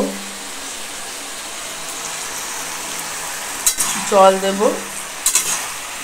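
Malabar spinach sautéing in a pan in a home kitchen, with a soft steady sizzle and a few metallic clinks and scrapes of a utensil against the pan near the end.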